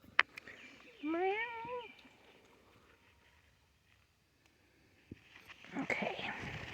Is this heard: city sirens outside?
no